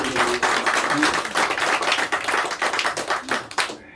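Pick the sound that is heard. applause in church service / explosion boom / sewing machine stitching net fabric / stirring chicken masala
applause in church service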